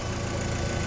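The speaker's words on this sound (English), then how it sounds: "the engine is idling now perfect" A VW Golf IV engine idles with a broken gearbox support mount, producing a steady, close, even hum with no change across the short stretch.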